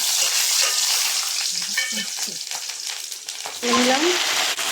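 Garlic and slit green chillies hit hot oil and fry with a loud, steady sizzle that never lets up, while a spoon scrapes and stirs the pan a few times near the end.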